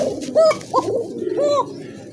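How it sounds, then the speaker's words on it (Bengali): Raj Golla pigeons, a male and female pair, give soft, thin-toned coos in three short phrases close by, with a murmur of other birds behind them. "এটা কিন্তু খুব ভালো ডাকে, চিকন সুরের কবুতর মাশাআল্লাহ"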